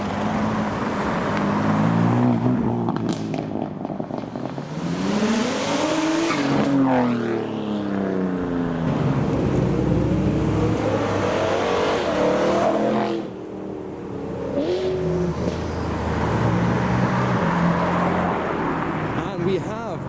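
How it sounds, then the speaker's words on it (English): Cars pulling away from a car show one after another, accelerating hard past a roadside spot with engine notes climbing and falling as each passes close by, loud and continuous, with some tyre noise. "Cars leaving the car show."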